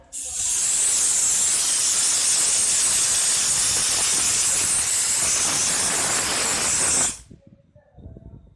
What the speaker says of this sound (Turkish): Buhar makinesiyle motor temizleyeceğiz şu an.